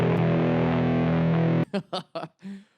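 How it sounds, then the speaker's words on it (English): A thick, heavily distorted electric guitar chord through a big green fuzz pedal on a Fender Tone Master Pro sustains loudly, then cuts off into a few short choppy fuzzed stabs. "I'm going to put in a big green fuzz"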